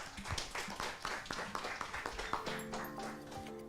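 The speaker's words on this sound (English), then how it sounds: "Let's give it a round of applause once again." An audience at a university AI forum in Indonesia claps for a team after its presentation, a short scattered round of hand claps with a faint tonal hum entering near the end.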